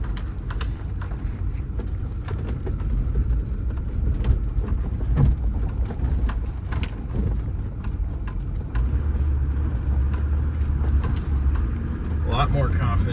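A Ford F250 pickup cruises along a dark forest track on back acreage, its engine and tire rumble a steady, loud low drone throughout, with faint scattered knocks and rattles.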